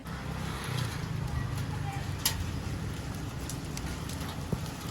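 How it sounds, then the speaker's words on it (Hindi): Heavy rain with hail in Karachi, a dense steady patter close by with occasional sharper ice impacts, while people talk over it. "लेकिन अब बहुत तेज बारिश है।"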